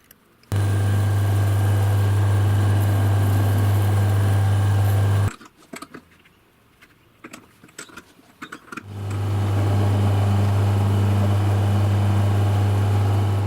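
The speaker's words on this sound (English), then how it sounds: "now I'm going to use the bushings, mount it on the lathe and turn it" Wood lathe with a new cutter turning an epoxy-infilled wooden pen blank mounted on bushings: a loud, steady motor drone runs for about five seconds, drops to a quiet, scratchy lull, then resumes just as strongly.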